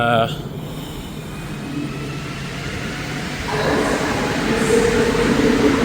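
A Montreal STM metro train rumbles along, with a rising whine as it picks up speed, heard from inside the car; no talking.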